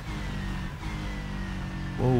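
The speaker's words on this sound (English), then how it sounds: "it seems like the car actually does bog down" A race car engine in the sim racing game Rennsport bogs down with a steady, strained low drone that lingers without rising, then a brief voice cuts in at the end.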